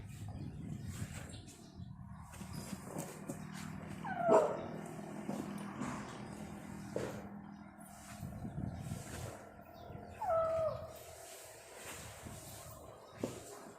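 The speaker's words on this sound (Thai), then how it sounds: "เห่าใครลูก" A dog gives two brief, high yipping barks several seconds apart. They sound fairly faint against steady background noise.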